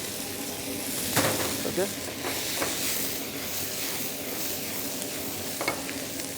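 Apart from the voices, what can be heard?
fried okra (bhindi) added to gravy in a pan, stirred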